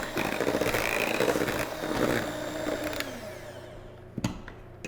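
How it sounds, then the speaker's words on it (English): A microwave oven that keeps spinning too long runs with a steady whirring hum and a faint rattling turntable, close and loud, then drops away near the end with a brief clunk. "My microwave's been acting up, sorry. It spins and spins forever."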